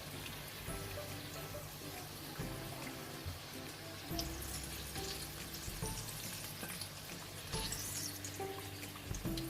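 Chicken strips fry in hot oil, a constant crackling sizzle with occasional pops and utensil clinks, close and moderately quiet with no talking.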